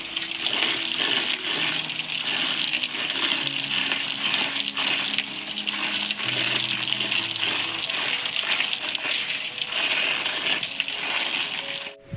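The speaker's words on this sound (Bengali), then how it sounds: "আগে কলে ধুয়ে নিচ্ছে এগুলো এরকমভাবে" Tap water gushes steadily over potatoes being washed for homemade chips, a continuous close rushing with faint knocks and clatter underneath.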